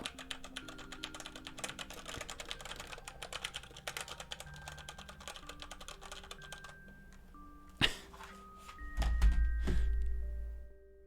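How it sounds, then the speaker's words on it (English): A mechanical keyboard is typed on right at the microphone, a fast steady clatter of crisp key clicks for several seconds, followed by a few isolated thumps and a brief rumbling handling noise. "I could bring my mechanical keyboard up to the microphone like this and do."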